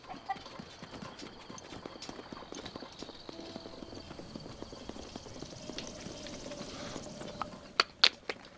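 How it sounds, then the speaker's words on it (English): Horse hooves clip-clop in a steady, faint rhythm across the video game Breath of the Wild, with soft ambient game sound and a few sharper clicks near the end. "Okay, is that a horse?"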